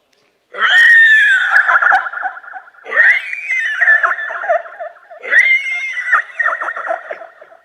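A stage performer's voice imitates a horse neighing in a mock-art nature piece: three loud, shrill whinnies, each a rising cry that trails into breathy snorts, separated by brief pauses.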